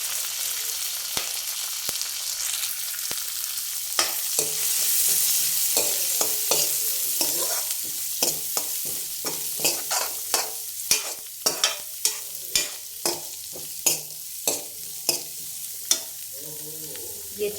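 Vegetables stirred and fried in a pan for chicken soup, a steady sizzle under repeated sharp clacks and scrapes of a spatula, close and fairly loud, no talking.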